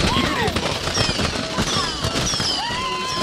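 Fireworks bursting in the Far Cry 6 video game, a dense run of crackling pops and whistling rising streaks, loud and close, layered with excited voices and cheering.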